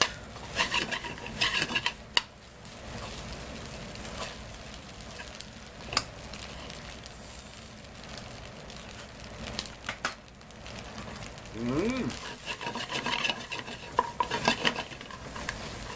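Shrimp fried rice with frozen shrimp, rice and egg tossed in a pan over high flame, giving a steady sizzle with repeated scraping and clanking of a metal utensil against the pan throughout.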